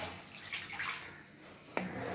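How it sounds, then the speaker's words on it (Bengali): Water, tinted red from a chili bowl, poured into a bowl for dhoka lentil cake curry, a brief, soft splashing pour with a sharper splash near the end, faint and close. "এবার আমি জল দিচ্ছি।"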